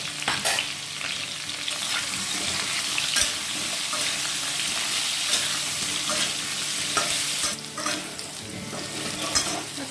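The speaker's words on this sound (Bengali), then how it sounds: "আলুর মধ্যে একটু সামান্য হলুদ দিয়ে ভাজবো, যাতে আলু ভাজাটা দেখতে ভালো লাগে।" Potatoes with turmeric fry in a pan with a dense, steady sizzle, while stirring adds continuous scraping and occasional clatter, close and loud throughout.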